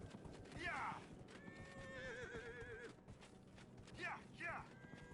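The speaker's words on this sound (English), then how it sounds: "Maybe I can just take my mount. My fancy ass armored horse." An armored horse mount in the video game Dragon Age: Inquisition whinnies twice, with a hoof clip-clop rhythm and tonal in-game sound effects in between, all fairly faint against quiet game ambience.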